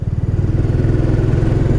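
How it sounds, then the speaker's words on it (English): A Royal Enfield Classic 350 single-cylinder motorcycle engine runs steadily, a loud, close, rhythmic thumping pulse with a rough low chug and wind rush over it. "the little engine just doesn't feel like it's working"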